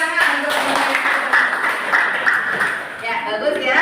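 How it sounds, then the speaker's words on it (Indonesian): Classroom applause for a student group presenting in an Islamic religious education lesson, a dense steady patter of many hands clapping for several seconds with voices mixed in. "Ya, kasih tepuk tangan untuk"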